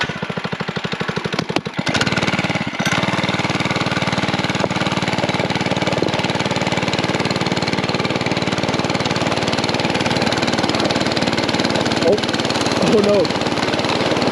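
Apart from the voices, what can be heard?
mini bike engine running, towing a sled at night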